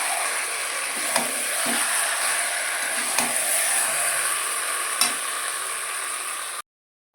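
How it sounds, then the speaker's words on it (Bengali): Meat and onions sautéing in hot oil in a home kitchen give a continuous loud sizzle with a bright hiss, broken by occasional stirring knocks and scrapes, before cutting to silence near the end. "তেলটা দিয়ে দিয়েছিলাম, গরম হয়ে গেছে, পেঁয়াজটা দিয়ে দিচ্ছি। মাংসটা কষানো হচ্ছে।"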